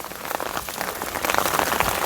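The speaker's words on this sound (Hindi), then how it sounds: "बारिश हल्की हो गई अब" Steady light rain patters on a surface nearby on the slippery mountain trail to Tungnath Temple, Uttarakhand, a soft continuous hiss with scattered drops and no voices.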